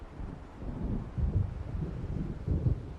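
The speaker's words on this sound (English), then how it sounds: "It seems there's a storm coming." Low rumbling thunder from an approaching storm in the video game Alan Wake Remastered, heard faintly and continuously with gusty wind noise and no voices.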